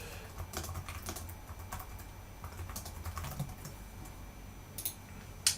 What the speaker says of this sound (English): type in a message here.